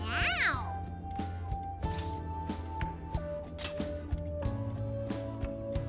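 A cat meows once in Persona 5 Strikers, a short rising-and-falling cry at the start, followed by game music with steady tones and soft clinks.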